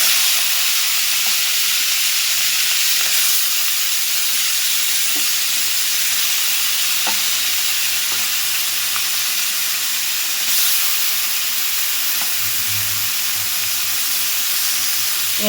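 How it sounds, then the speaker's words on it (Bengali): Prawns frying in hot mustard oil in a kadai, a loud, continuous hiss and sizzle with faint stirring clicks, no talking. "তেলটা গরম হয়ে গেছে এবার আমি মাছগুলো ছেড়ে দেবো"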